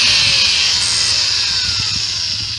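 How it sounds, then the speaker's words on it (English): Power drill boring out mount bolts on a 66cc/80cc motorized bike, a loud, close, steady high-pitched whine with a slight falling pitch as it bites, running continuously. "Alright, I'm going to drill them out."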